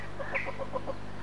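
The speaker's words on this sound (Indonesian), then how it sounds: "Ini ayam saya si Berumbun." A chicken clucks in a quick run of about six short, soft notes over a low steady background hum, moderately close, with no talking.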